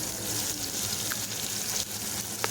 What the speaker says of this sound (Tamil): வெங்காயம் நல்லா வதங்கி வரணும், ப்ரௌனிஷ் ஆகணும்.